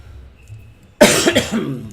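One sharp, loud cough close to the mic at an American football match, breaking a quiet moment, followed by a short rough trailing exhale.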